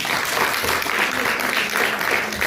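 Audience clapping at a National Science Week school event in India, a loud continuous wash of applause that swells and persists, with faint voices mixed underneath.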